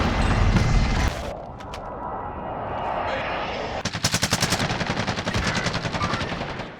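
Gunfire in Call of Duty Warzone on PC, a loud blast, scattered shots, then a sustained rapid automatic burst close by, with game voice callouts mixed in.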